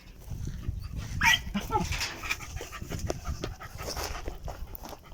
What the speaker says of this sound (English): He's barking to the rats